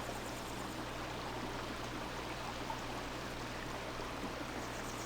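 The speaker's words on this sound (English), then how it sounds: "The water stops and we go through." Water flowing continuously in the Baldur's Gate 2 game world, a soft, even rushing stream with no breaks, fairly quiet and heard alone.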